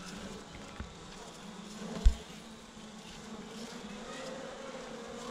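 Honeybees buzzing around a queen cage during beekeeping, a steady faint hum that runs throughout, with one brief soft knock near the middle.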